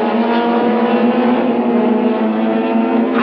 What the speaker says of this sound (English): Probler has put some early pressure on Farouk Dangour as they head for the S's for the first time